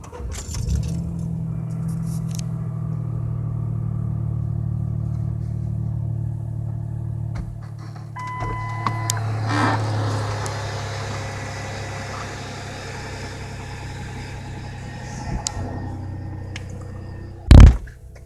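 Car engine idles after a Marvel Mystery Oil treatment, a steady low rumble that drops and shifts midway, with faint rattles, a jingle of keys and a sharp knock near the end; nobody speaks.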